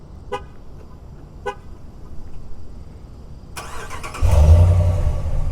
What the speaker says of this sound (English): if you lock the truck with your key fob and then hit the circular arrow sign twice